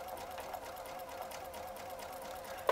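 A sewing machine stitching quilt blocks for a Lemoyne star, running steadily at a quiet hum with a small clack at the end.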